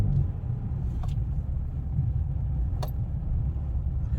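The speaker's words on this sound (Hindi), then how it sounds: "हाँ, अब बढ़ाओ आगे, ज़्यादा एक्सीलेटर लो।" A car on the road during a beginner driving lesson, a steady low engine rumble with road noise from inside the cabin, with two faint brief clicks and no voices.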